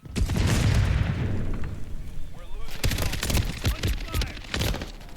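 Bomb explosion in Call of Duty multiplayer: a heavy boom opens, followed by a rumbling decay and then a burst of sharp gunfire and impacts, loud and close.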